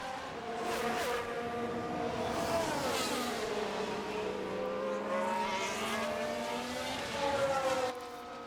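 An F1 car in F1 Manager 2022 at Bahrain races past on the straight, its high engine whine rising, sweeping and then dropping in pitch as it passes, loud and close.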